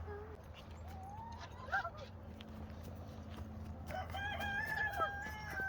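Chickens cluck and a rooster crows from a backyard coop, with several short calls and a longer crow near the end, under a steady low hum and some quiet talk in the background.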